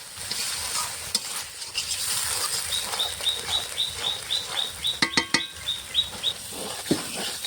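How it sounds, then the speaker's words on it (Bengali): Spice paste of turmeric, salt and cumin powder stir-fried in a pan for a Bengali fish curry, a steady close sizzle with a run of quick, rhythmic scraping strokes, a few sharper clanks near the end, no voices. "মশলাটা ভালো করে কষানো হোক"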